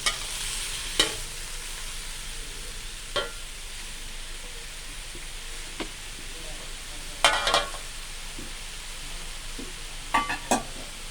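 Onion stir-fried in a pan with wood ear mushrooms and ginger gives a soft, steady sizzle. Brief scraping stirs of the spatula break through it now and then.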